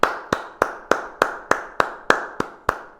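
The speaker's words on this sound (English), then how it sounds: "When a player throws the horseshoe completely around the stake, people clap." At an outdoor horseshoe pitching game, people clap after a ringer: about ten sharp, evenly spaced claps in a quick steady rhythm, fairly close and clear, with no talking.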